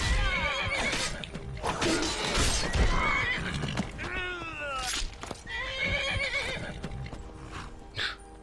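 A wild horse neighs repeatedly in Skyrim, loud whinnies with falling, wavering pitch, mixed with hoof clatter and game sounds.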